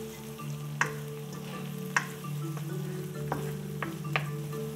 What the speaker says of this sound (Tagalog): Ilalagay natin itong ating bawang.